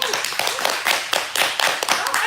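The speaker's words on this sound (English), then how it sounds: "it always shocks me when people clap at that" An audience at a spoken word and poetry event claps, the dense applause rising and falling briefly and filling the whole moment at close range.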